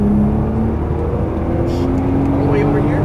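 A Nissan GT-R accelerates hard on a race track, its engine droning steadily loud and close with a rising tone, while a voice talks over it.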